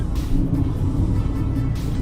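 Car cruising at good speed on a highway near Bharuch, heard from inside as a steady low engine and road rumble with a faint tyre whine, no talk.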